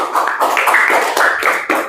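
A classroom of students claps together in a quick burst, with young voices chanting along over the close, continuous patter of hands.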